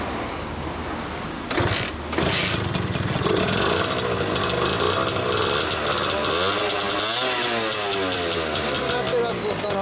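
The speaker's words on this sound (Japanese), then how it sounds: "エンジン音聞かせてもらえる？" A loud two-stroke Honda NS-1 motorcycle engine with a Zero Racing expansion chamber revs repeatedly with a raspy, buzzing tone, rising and falling in pitch, with voices talking over it.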